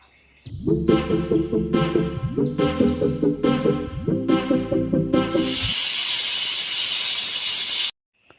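A steady, loud hiss of escaping steam from a pressure cooker cooking eggs that holds for a couple of seconds and stops abruptly, following rhythmic rattling pulses of the cooker.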